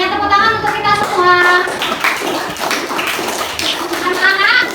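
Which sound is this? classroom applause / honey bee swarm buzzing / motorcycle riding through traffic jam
classroom applause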